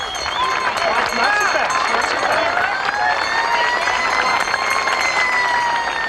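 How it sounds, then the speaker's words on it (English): A crowd at a high school football game applauds and cheers loudly and steadily, with whistles and raised voices. A commentator speaks over the noise. "One more round of applause."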